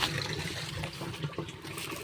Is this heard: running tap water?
yes